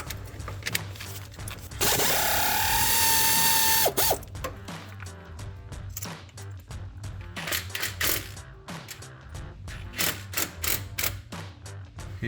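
An air impact gun spins long bolts out of a Jeep Wrangler JK axle, a loud sustained whir lasting about two seconds, then a series of short ratcheting and clanking mechanical bursts close by, with no talking.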